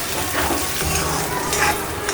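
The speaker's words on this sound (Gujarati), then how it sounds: "કાંદા ટામેટાની ગ્રેવી એડ કરી દઈશું. હવે બધું સારી રીતે મિક્સ કરી લઈશું." Onion-tomato gravy stirred into sizzling fried spices for restaurant-style chole, with a steady, dense frying hiss and scraping stir sounds running throughout, close and fairly loud.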